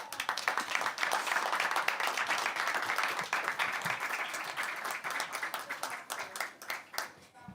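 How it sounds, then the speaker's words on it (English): Audience at a forests and climate change event bursts into sustained applause, many hands clapping densely before tapering off. "please join me in giving a humongous clap to the partnership, to our speakers, to all of our speakers"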